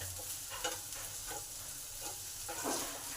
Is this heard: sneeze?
no